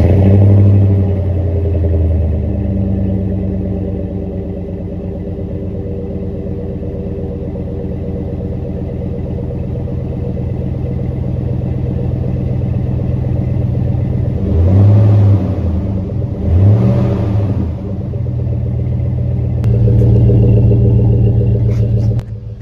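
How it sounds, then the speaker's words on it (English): A 2004 Chevy Silverado truck, around 240,000 miles, idles with a deep, steady exhaust rumble close by, rising in two short revs midway and once more near the end before settling. "I think the exhaust sounds good, or not great, but I like it okay."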